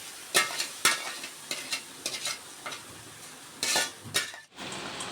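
A spoon scrapes and stirs hot lentils in a pan in irregular strokes, with a faint sizzle underneath and no voices.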